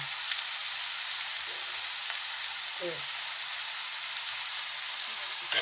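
A steady, bright sizzle of spices frying in hot oil, constant and close, with a brief spoken word partway through.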